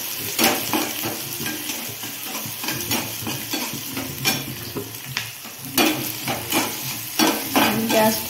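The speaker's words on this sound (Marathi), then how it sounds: "नंतर कांदा टाकायचा, त्याला हलवून घ्यायचं।" Chopped onion frying in a hot pan while being stirred, with a steady sizzle broken by repeated scraping strokes of a spoon against the metal, close and fairly loud, no voices.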